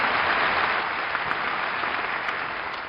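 A theatre audience applauds and cheers as Georges Méliès takes the stage at a gala in the film Hugo, a dense, steady wash of clapping that tapers slightly toward the end.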